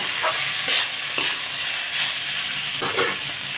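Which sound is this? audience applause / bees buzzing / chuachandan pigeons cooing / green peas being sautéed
green peas being sautéed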